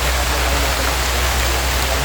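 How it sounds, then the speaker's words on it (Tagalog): Heavy rain falling in a forest, a dense, constant hiss of downpour with no pauses, loud and close all around. "Yan, malakas yung ulan mga tol."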